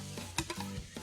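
Sautéed vegetables and tomatoes are tossed in a pan over a medium flame, giving a few quick soft scrapes and light sizzles that are brief and faint.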